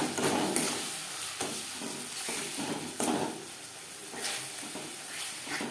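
A paste of ground ginger and green chili with turmeric, spice powder and tomato sizzles in a pan over low to medium flame while a spoon stirs and scrapes it in irregular strokes, close and fairly quiet.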